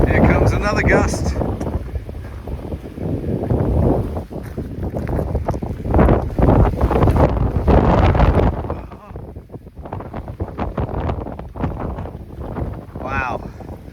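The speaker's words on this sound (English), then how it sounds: "Here comes another gust." Strong gusts of wind sweep across open hillside, roaring and buffeting the microphone in loud, surging waves that ease briefly before building again, with a voice speaking over the blustery noise.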